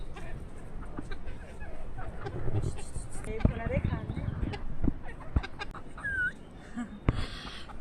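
Chickens cluck and call around a rural village yard in the rainy season, scattered short calls over a low, busy background, with a human voice in the mix.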